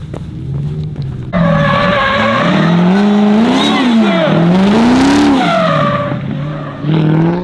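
A car drifts around a race track bend on its first-ever drift outing, engine revving and rising and falling in pitch through the slide with tire squeal mixed in, loud and close, with no talk.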